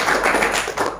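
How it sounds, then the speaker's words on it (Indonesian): Brief burst of applause from a congregation at a church worship service, a quick patter of several claps in close succession, fairly loud and with no voices over it. "Berikan tepuk tangan untuk Tuhan."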